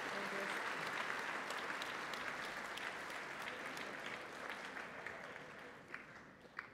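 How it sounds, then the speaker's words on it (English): A school assembly audience at a Catholic college applauds student public speaking representatives, a sustained wash of clapping from a large crowd in a hall that slowly fades, with a few sharper claps at the end. "Please give a round of applause to our 2018 CSDA Public Speaking representatives."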